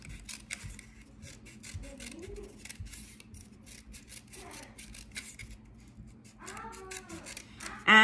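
Scissors snip through a cardboard toilet roll in a series of quick, close cuts, with a cat meowing now and then in the background.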